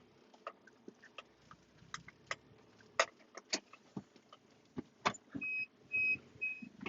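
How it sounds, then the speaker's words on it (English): A 5-speed 4x4 Isuzu diesel crew-cab dump truck in reverse gives a series of high, evenly spaced backup-alarm beeps near the end, after scattered clicks and knocks from the vehicle. "There's a backup alarm."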